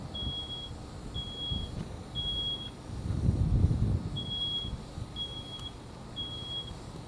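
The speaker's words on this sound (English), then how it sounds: "the smoke detector is still working, even in a working fire" A smoke alarm beeps in short, evenly spaced high chirps, about once a second in pairs, over a low rumbling roar of a working fire in a sprinkler demonstration and background noise.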